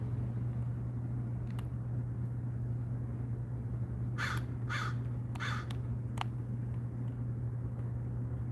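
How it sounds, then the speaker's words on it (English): Crows caw several times in a quick cluster at moderate distance, with a few scattered calls before and after, all over a steady low mechanical hum. "Crows trip me out."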